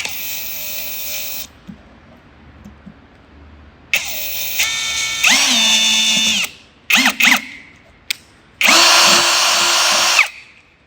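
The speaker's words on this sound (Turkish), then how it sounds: "işareti vurduğumuz yerden matkap yardımı ile 3 milimlik tığ ile delik açıyoruz" An electric drill with a 3 mm bit runs in several short bursts, spinning up, boring a hole at a marked spot, and stopping, with quiet pauses between the loud whirring runs.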